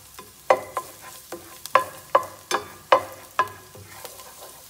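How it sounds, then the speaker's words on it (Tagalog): Garlic sautés in a little cooking oil while a spatula scrapes and stirs the pan in sharp, regular strokes about twice a second over a soft, close sizzle, with no voices. "Gisahin natin itong bawang sa mantika mga katropa."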